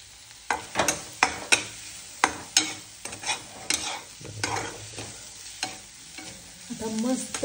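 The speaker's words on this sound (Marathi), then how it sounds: "आता मस्त तेलात परतून घेतलंय" Onions or spices sauté in oil for egg bhurji, a spatula stirring and scraping the pan in repeated sharp strokes over a soft sizzle, close and clear with no talk.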